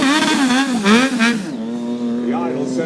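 A motorcycle engine idles at a stunt show with the rider sitting backwards, giving a steady, fairly loud hum that holds at an even pitch while someone talks over it.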